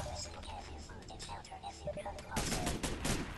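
Video game gunfire crackles in quick bursts, faint and somewhat muffled, with a louder rattling volley near the end, while a voice talks over it.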